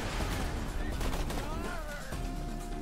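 Borderlands 2 gunfire with the Azurelands 2 mod: bursts of loud, dense shooting and impacts blend with game effects in a busy, continuous mix, and voices chatter underneath.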